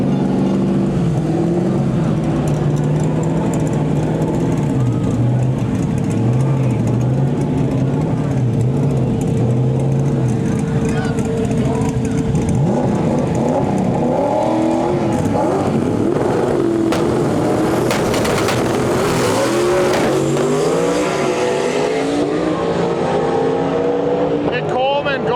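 At a World Cup Finals stick-shift drag race, a Ford Mustang and the S10 Native Nightmare roar and rev down the track. Loud, sweeping engine noise runs under continuous announcer commentary throughout.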